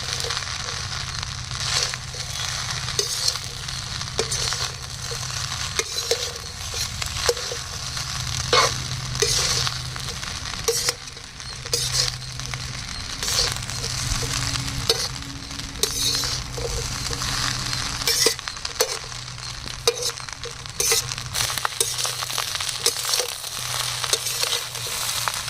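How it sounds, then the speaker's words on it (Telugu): Fried chicken pieces and egg stirred together in a pan over high flame, fast-food-centre style, with steady sizzling and frequent scraping clinks of the spatula against the metal over a long stretch. "ఇప్పుడు మనం ఫ్రై చేసి పెట్టుకున్న ఈ చికెన్ ముక్కలు అలాగే ఎగ్ ఇవన్నీ కలిపేసి వేసేసుకోవాలి. ఇలా వేసిన తర్వాత హై ఫ్లేమ్ మీద ఇలా బాగా కలపాలండి."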